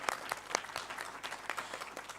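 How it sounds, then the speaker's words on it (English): An audience at a women in media and communications panel discussion applauds a panelist, a short burst of many hands clapping at a steady patter, fairly faint and distant, with no one speaking over it. "Let's give Lerato a round of applause."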